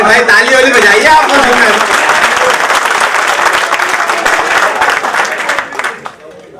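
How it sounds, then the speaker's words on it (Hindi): Sustained audience applause fills a hall at a mushaira poetry gathering, dense steady clapping from a large crowd that slowly fades out toward the end. "अरे भाई ताली वाली बजाइए आप।"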